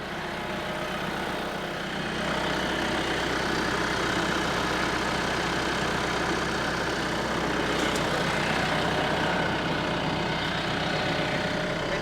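A tractor engine runs at a steady idle, a low continuous rumble that rises a little in loudness after the first couple of seconds, with no talking.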